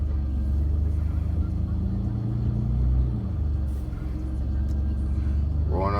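A car drives along a road toward a local railroad crossing, its steady low engine rumble and road noise continuous and close throughout, with a brief rising tone near the end.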